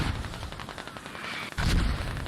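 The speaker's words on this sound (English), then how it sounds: "those mortars, I'm going to guess that they are enemy mortars" Enemy mortar rounds landing in a military video game: a rapid series of blasts and thumps, with a heavier, louder impact near the end.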